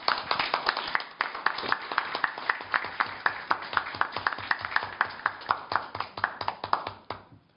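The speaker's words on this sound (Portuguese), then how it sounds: "uma salva de palmas para ela" Steady rhythmic clapping from an audience for an academy event team, many distinct sharp claps in a regular beat for about seven seconds, then stopping abruptly.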